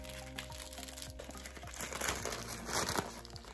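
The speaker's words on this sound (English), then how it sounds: "So I'm gonna unwrap this and see what it looks like." Tissue paper crinkles and rustles as a black leather Chanel base shaper is unwrapped, with close, continuous soft crackling that swells louder toward the end.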